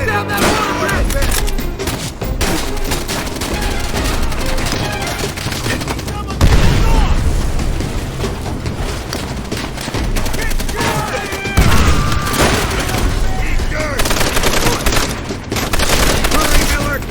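Machine gun fire in the Call of Duty: World at War campaign, a loud, dense, continuous rattle of automatic shots mixed with battle noise and booms that carries through the whole stretch.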